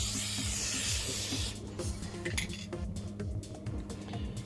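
A spray can lays a thick final coat of paint on a Roland AX Edge keytar, with a loud steady hiss for about a second and a half, then light clinks and handling rattles over a low hum.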